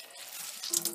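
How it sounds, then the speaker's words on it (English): Running tap water splashes steadily as blueberry-dyed floss is rinsed in a sink, a short, close burst of flowing water. "Seems to be rinsing clear."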